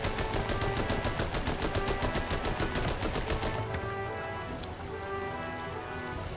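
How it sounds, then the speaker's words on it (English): Rapid machine gun fire in the tank game Armored Battle Crew, a loud, steady stream of evenly spaced shots that stops partway through, leaving a rumbling engine-like background and scattered clanks. "The machine gun you are using is not going to do anything against it."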